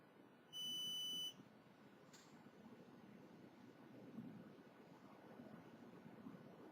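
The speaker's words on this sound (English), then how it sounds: "There's, like, some alarm going off." A high electronic alarm sounds one loud sustained tone for under a second, then cuts off, leaving a quiet background hiss.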